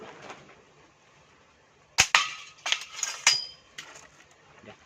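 A gun is loaded and then fired in a quick live test: a few soft handling sounds, then a sharp crack at about two seconds followed by several snappy metallic clicks and pops, close and fairly loud.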